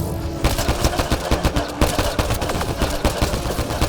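Rapid gunfire in the video game Mass Effect Andromeda, a steady stream of sharp close shots repeating in quick rhythm with no pauses, loud and dense.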